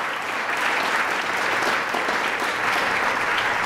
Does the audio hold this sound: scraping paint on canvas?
no